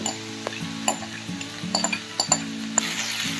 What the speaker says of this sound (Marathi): आता त्याच्यामध्ये तांदूळ टाकूया एक कप तांदूळ आहे